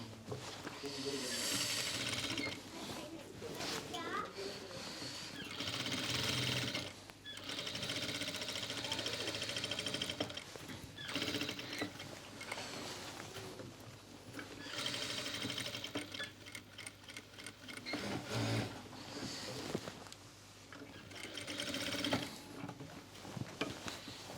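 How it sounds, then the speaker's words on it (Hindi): A sewing machine runs in long steady stitching stretches around the edge of a pheran, with mechanical whirring and brief pauses, close and fairly loud. "इस तरीके से पूरी सिलाई हमने चारों तरफ इसके घुमा देनी है।"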